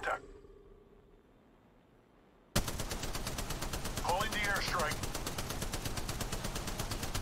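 Gunfire in Apex Legends during a match, bursting in suddenly after a near-silent start, then rapid automatic fire rattling on in a dense, loud, continuous stream.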